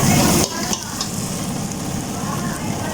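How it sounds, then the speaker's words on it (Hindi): Tomatoes and green chilies hit hot oil in a pan for dhaba-style karela pyaz, setting off a loud, dense sizzle that drops slightly after the first half second and then continues steadily. "अब हम इसमें ऐड करते हैं अपने टमाटर और हरी मिर्चें।"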